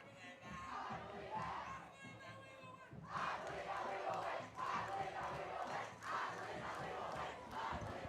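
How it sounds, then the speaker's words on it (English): A high school football student section at Pine Ridge yells and chants in unison, a roaring crowd heard from some distance, swelling louder after a brief dip and holding strong to the end. "the crowd here at Pine Ridge getting loud"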